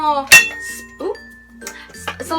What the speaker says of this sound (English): you have one handle that you just use to attach to pans like that